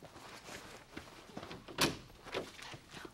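A door opens in a Spanish-language TV show, with a sharp broadband clatter midway through and softer knocks and thuds around it, close and fairly loud over a quiet room.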